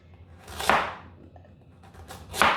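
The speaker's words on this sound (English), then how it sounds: "So I cut it into batons as well" Two crisp knife chops through carrot being cut into batons on a board, close and distinct, about two seconds apart, with faint scraping between.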